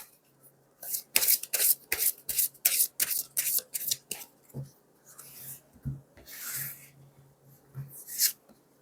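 Tarot cards are shuffled and drawn in a quiet room: a run of about a dozen quick, crisp riffling bursts in steady rhythm, then looser sliding and slapping of cards as they are spread and picked, close and clear with no talk.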